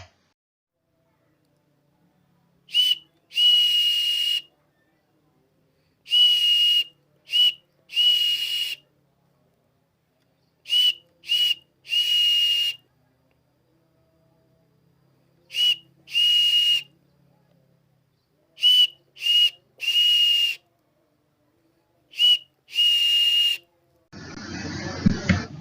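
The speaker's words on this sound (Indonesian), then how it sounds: "contoh penyampaian kode Morse dengan peluit" A whistle blows Morse code in short and long blasts with pauses between groups, clear and loud against near silence, ending in a burst of noise.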